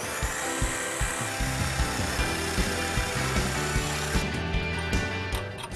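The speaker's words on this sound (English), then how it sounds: "we're going to slice the tailpipe here so it comes off in two pieces" A power tool cuts through a Jeep TJ exhaust tailpipe, a continuous loud grinding whir with rhythmic knocks and rattles, close and alone.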